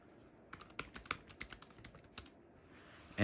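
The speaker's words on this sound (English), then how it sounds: "I can just start typing on this thing," Keys clatter in a quick, uneven run on a ProtoArc XK01 foldable wireless Bluetooth keyboard, close and crisp, thin plastic-sounding taps for about three seconds before a sudden louder noise cuts in at the end.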